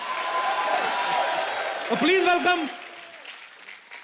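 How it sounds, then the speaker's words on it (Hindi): Studio audience applause on a TV comedy talk show, a broad wash of clapping heard throughout underneath someone talking on a microphone as he introduces a guest. "तालियां अगर आपका मन हो तो बजा लेना"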